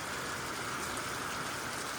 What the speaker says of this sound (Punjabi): ਮੀਂਹ ਟੇਡਾ ਪਿਆ ਇੱਧਰ ਨੂੰ ਪੈਂਦਾ